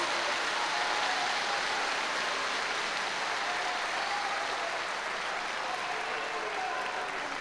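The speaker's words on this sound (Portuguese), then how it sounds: "Aplauda ele, aplauda" Steady applause from a church congregation, a dense continuous patter of clapping that holds evenly throughout.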